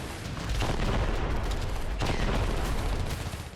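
Bombing and explosions in Khan Younis, Gaza, make a heavy, continuous roar with a sharp blast cracking through about halfway, loud and close throughout.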